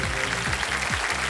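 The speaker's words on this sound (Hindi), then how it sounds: "ताली बज जाए।" Studio audience applause on a TV quiz show, a dense, steady wash of clapping filling the whole moment at close range beneath music.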